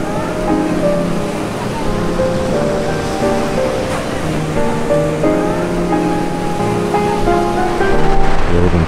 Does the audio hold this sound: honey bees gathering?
no